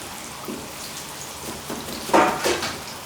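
Battered chicken pieces crackle and sizzle in hot oil, a steady close spatter with a few louder bursts as pieces drop in, no talking.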